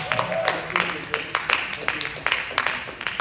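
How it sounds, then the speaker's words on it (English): Audience applause at an inaugural event, a crowd clapping steadily with scattered sharp claps over a few seconds, mixed with background chatter and cheering. "everybody give him a round of applause"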